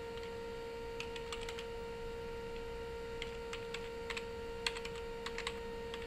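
Typing on a computer keyboard while entering text in an online design editor: irregular light key clicks in short bursts, close and fairly faint over a steady electrical hum, with no talking.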